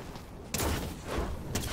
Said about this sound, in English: Oh my god, they have fireworks.